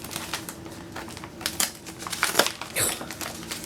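A packet of Trader Joe's trail mix cookies is torn open by hand, with soft crinkling and a few sharp ripping bursts of plastic, close and fairly quiet.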